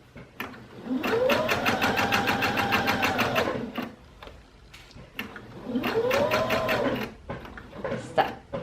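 A sewing machine stitches a boxed-corner bench cushion in two rapid, steady runs, winding up and slowing at each end, close by with a short pause between, and no talking.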